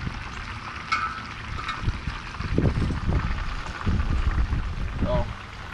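Chicken wings drop into hot oil in a wok outdoors, setting off a sizzling, bubbling fry that swells in bursts under a voice talking over it.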